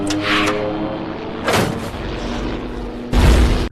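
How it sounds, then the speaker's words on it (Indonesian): In a film scene set in Laos in 1966, rockets fired from a plane strike an enemy base, producing heavy booming blasts with one in the middle and a louder one near the end over a sustained dramatic soundtrack. "Dieter pun berhasil meluncurkan 2 roket ke markas musuh."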